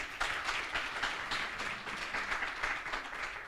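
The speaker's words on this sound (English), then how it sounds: "Colleagues, we should have clapped louder than that." An audience applauds at the close of an agricultural symposium. The clapping is steady and moderately quiet and lasts the whole stretch.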